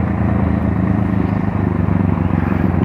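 A Bajaj Pulsar NS 125 motorcycle engine runs with its exhaust removed, producing a loud, close, raw, steady drone with a rough, throbbing pulse.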